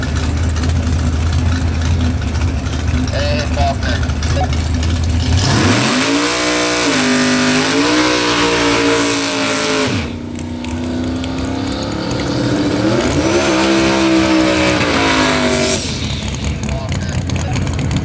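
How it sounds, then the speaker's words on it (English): A 1960s Mustang muscle car revs hard at a drag race starting line, its engine rising and falling in two loud bursts over a rumbling idle, with a voice talking over the crowd noise. "One of my favorite 60s era muscle cars right here on the line"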